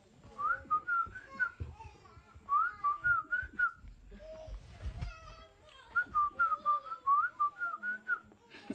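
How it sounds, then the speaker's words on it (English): Men of the Pirahã people converse in whistle speech, trading clear, close, melodic whistled phrases in short rising and falling bursts, with faint background voices and noises between them. "Here's an example of whistles."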